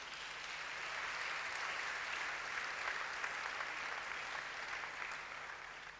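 A church congregation applauds and cheers in a steady, sustained wash of clapping that fades slightly at the end, heard from some distance and fairly faint.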